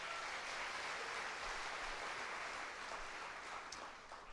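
Faint applause from a crowd, a steady patter of clapping that continues evenly throughout.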